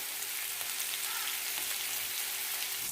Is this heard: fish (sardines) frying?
yes